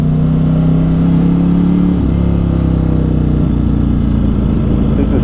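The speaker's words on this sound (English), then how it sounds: "Oh, I just love the sound on this bike." A Ducati Streetfighter V4 or Triumph Rocket 3 R motorcycle engine hums steadily and loud on a road, its pitch shifting and dropping briefly as the bike changes speed.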